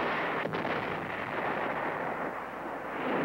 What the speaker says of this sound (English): and artillery, and the B-52s start their aerial bombardment.